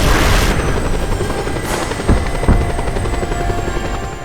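A helicopter in the video game Just Cause 2 drones steadily with a loud rotor and engine roar, with a couple of dull thumps partway through and no talking.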